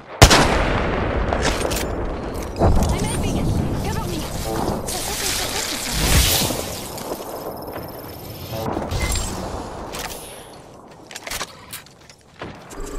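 Video game combat with sharp bursts of gunfire and a grenade blast, close and loud, mixed with clicks and clatter while a person talks over the action.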